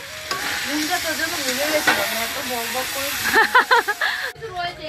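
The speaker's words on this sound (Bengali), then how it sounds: "এবার মশলাটা ভালো করে কষাচ্ছে" Spices are stirred and fried in a pan, giving a close, steady sizzle and hiss with scraping strokes. A voice talks over it, and a burst of sharper stirring comes near the end.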